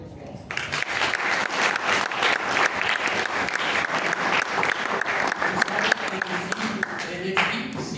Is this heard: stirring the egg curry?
no